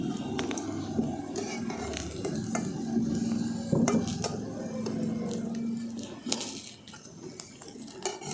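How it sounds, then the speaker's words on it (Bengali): Carrot pitha sweets stuffed with kheer deep-frying in hot oil, a steady close sizzle with occasional stirring scrapes and soft clinks of utensils against the pan, no voices. "বাকিগুলোকেও আমি একই রকমভাবে ভেজে নিচ্ছি।"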